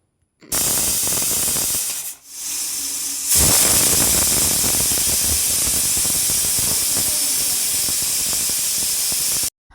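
A pressure cooker on a gas stove, cooking a Kerala-style banana stem curry, lets off a loud, sustained hissing steam whistle, broken by one short dip before continuing strongly.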